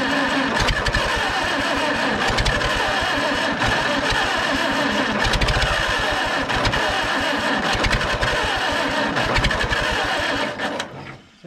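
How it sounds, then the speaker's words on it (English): A Farmall 350 tractor engine, restarted after eight years with poor plug wires, runs loud and close with a rapid uneven chugging firing rhythm before cutting out near the end. "Fires on all cylinders, but those plug wires are pretty bad, but it does fire,"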